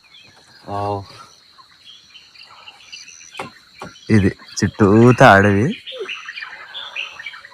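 Birds chirp and call near a forest at dawn, with a steady insect buzz throughout, a few short tweets early on and a louder burst of warbling calls near the end; a person speaks briefly.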